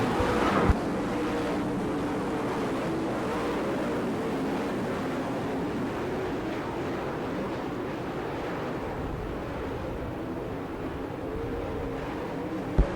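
Hav-A-Tampa late model stock cars race around the track at Gibsonton, Florida, a continuous distant engine roar that holds steady and fairly faint, with no voices over it.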